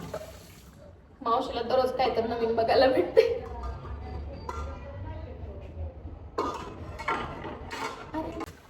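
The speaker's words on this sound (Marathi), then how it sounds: "मला भांडे घासायला आवडतं" Dishes being scrubbed and rinsed at a home kitchen sink, with running water, clinking utensils and pots, while someone talks over the washing.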